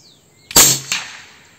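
A single sharp shot from a URKO III bullpup air rifle firing a 25 grain pellet, a crisp close crack with a second fainter snap just after, then a short fading tail in a quiet setting.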